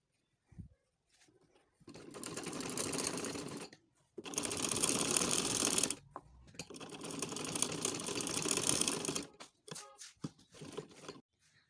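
A sewing machine stitches a frock's back neck binding in three long bursts of rapid whirring, separated by short pauses and a few clicks, then quick shorter runs at the end.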